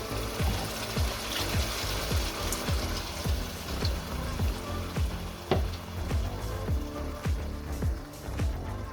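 Vegetable stock poured into a pot of chilli con carne, steady close sizzle and bubbling with a regular soft tapping of stirring underneath, continuous and fairly faint, no speech.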